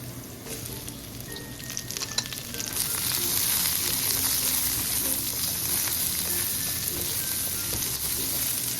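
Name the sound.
garlic and onion sautéing in pan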